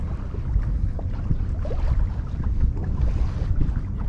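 A sailboat moves through open water on Lake Superior, giving a steady, loud rush of wind and water against the hull with constant low rumble and no speech.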